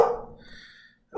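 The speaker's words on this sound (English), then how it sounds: "I'm adding with a dog barking in the background." A dog barks a few times in the background, a short burst at the start that trails off, then silence before another sound begins.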